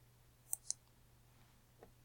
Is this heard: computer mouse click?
yes